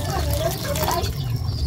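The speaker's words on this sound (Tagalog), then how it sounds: "Lagyan natin ng tubig." Hot water poured into a pot of salty pinakbet vegetable stew, a brief steady splashing pour with trickling, close and fairly loud, with no talk.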